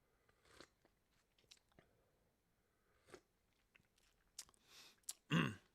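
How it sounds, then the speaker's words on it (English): Quiet, close slurps of hot tea, a few soft sips and mouth sounds scattered through near silence, ending in a louder slurp. "you guys don't want to hear the sipping sounds"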